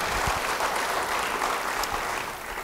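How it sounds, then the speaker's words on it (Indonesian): Steady applause from a church congregation during a sermon, a dense continuous wash of many hands clapping at moderate distance that holds for a few seconds and then eases slightly. "Beri tepuk tangan yang baik."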